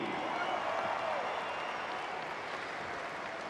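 A large outdoor crowd at a junior supercross and motocross race in Auckland applauds the winner, steady dense clapping and cheering that holds for several seconds and slowly eases.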